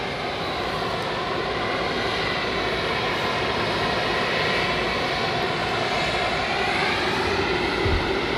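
A jet airliner rolls along a runway at Frankfurt Airport on a frosty day, its engines giving a steady, loud, broadband roar with a shifting whine that holds throughout, with no voices.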